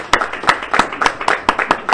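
An audience claps at a transport minister's speech on e-tolls and taxi relief, with a scattered run of sharp hand claps in an irregular, steady rhythm lasting about two seconds.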